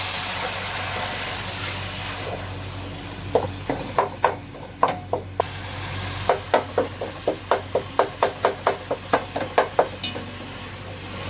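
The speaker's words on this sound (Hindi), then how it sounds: "मसाले को आपने अच्छी तरीके से भून लेना है।" A masala of cinnamon, black cardamom, green chillies and a large tomato fries in a pan, a steady sizzle with a run of sharp, rhythmic spatula clacks against the pan. The sounds are close, and no one speaks.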